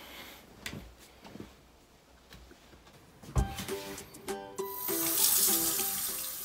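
Cold water runs from a tap into a sink while someone washes their face. A few soft clatters come first, then the water rushes steadily and fairly loudly through the second half.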